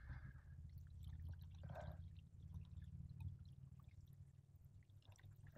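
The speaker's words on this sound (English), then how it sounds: "And I'm pouring antifreeze." Pool antifreeze poured from a jug into a pool plumbing line while winterizing, a soft continuous liquid pour over a low steady hum, with brief splashy spurts from a leaking fitting, fairly quiet and close.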